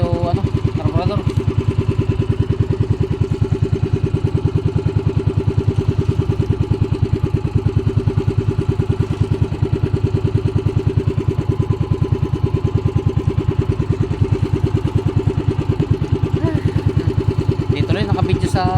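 A troubled motorcycle engine idles steadily, its suspected carburetor or CDI fault leaving a continuous low, rumbling throb close up that holds an even level throughout, with no other sounds breaking in.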